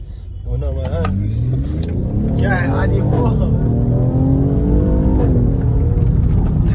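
A Mercedes-Benz GLE450 AMG Coupe engine heard from inside, pulling steadily with rising revs and audible gear changes, a continuous loud drone while a person talks over it.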